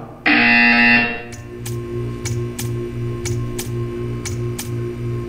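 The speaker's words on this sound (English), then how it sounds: "You will hear a buzzer." A loud electronic buzzer in Portal 2 blares for about a second, then a steady ticking beeps at an even rhythm over a low hum.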